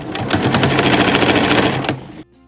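Sewing machine stitching a quilt-as-you-go seam through fabric scraps and batting, a steady fast run of needle strokes for about two seconds before stopping abruptly.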